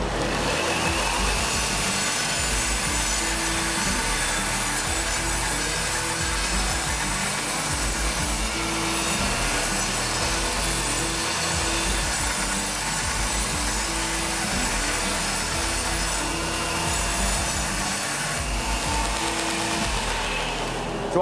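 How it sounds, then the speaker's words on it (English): A bench grinder thins steel stock for a rivet in a blacksmith's forge shop, a loud, sustained roar that grinds on for the whole stretch without letup or speech. "I just ran to the grinder to thin down some stock that I'm going to use for the rivet"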